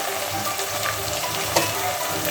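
Mutton curry frying in a pan for a Telangana-style dish gives a steady, loud, dense sizzle with a brief sharper crackle partway through, no talking.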